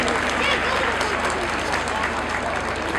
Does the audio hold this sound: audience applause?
yes